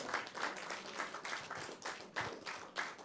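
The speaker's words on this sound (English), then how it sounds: "Give her a round of applause." Fairly faint applause from an audience, a short burst of clapping with pulsing surges over three seconds.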